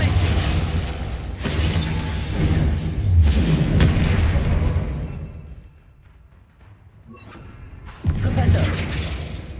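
Confringo fire-blast spells from Hogwarts Legacy land in repeated heavy booms with shattering crashes. A brief lull follows before another loud burst near the end.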